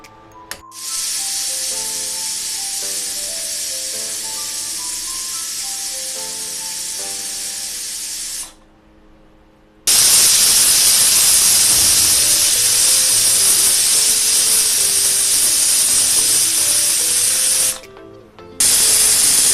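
A pressure cooker on the stove cooking Bengali potato curry gives out a loud, steady steam hiss that runs for several seconds, stops briefly, then resumes at full strength and cuts off again.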